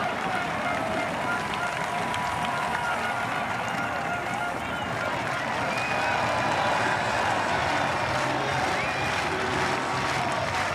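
Spectators line the course at the Munich 2022 European Triathlon Championships, a continuous wash of cheering and applause rising as the triathletes pass.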